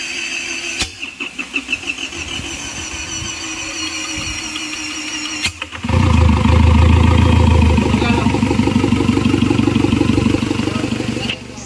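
Car engine running smoothly after an ECM repair, first a few uneven pulses, then a steady, loud, close idle rising into a fuller drone for several seconds with no talking.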